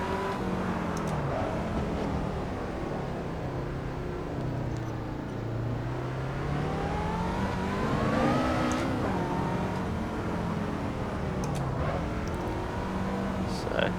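A car laps a track in Assetto Corsa, its engine note rising and falling smoothly through gears at a relaxed cruising pace, steady and moderately quiet, with occasional talk over it.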